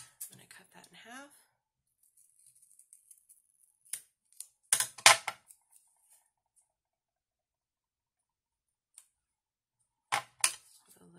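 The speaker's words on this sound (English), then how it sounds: "I'm going to cut that in half." Scissors cut paper for die-cut waterfall sleeves and an envelope: a few crisp, close snips in two short bursts separated by quiet, with a faint voice briefly at the start.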